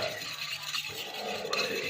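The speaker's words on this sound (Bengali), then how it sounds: "চিনি তেল আর দই দিয়ে প্রথমে এটাকে চামচে করে নড়াচ্ছে" Close, steady scraping and swishing as a spoon stirs sugar, oil and yogurt together for an eggless cake batter, a continuous soft rasp without pauses.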